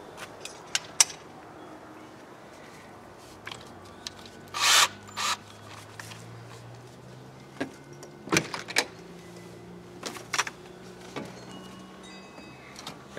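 Holes drilled in an RV to mount a Stromberg Carlson Lend a Hand folding hand rail, heard as several short bursts of drill whir and bite against the body, separated by pauses and handling knocks.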